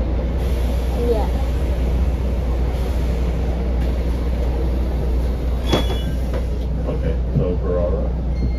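Steady low rumble of a moving rail car interior, with a constant hum, occasional clunks and a brief metallic squeal, voices murmuring nearby.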